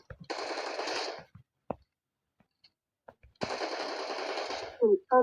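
Two sustained bursts of Thompson submachine gun fire in a video game, each lasting about a second, rattling rapidly and loudly with short gaps of quiet between them, followed by brief voice sounds at the end.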